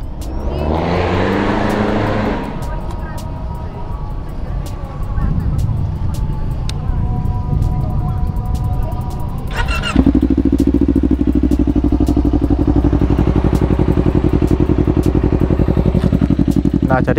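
A 2019 Kawasaki Ninja 250 Fi motorcycle starts and idles close by, a steady engine burble that steps up into a louder, denser idle partway through, with a voice talking over it at the start.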